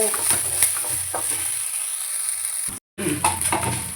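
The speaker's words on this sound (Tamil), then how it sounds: "இந்த பாருங்க, பூண்டு இஞ்சியை நல்லா வதக்கிக்கணும்." Garlic and ginger sautéing in oil for pudina thuvaiyal: a steady sizzle with occasional stirring scrapes, fairly close, under a person talking.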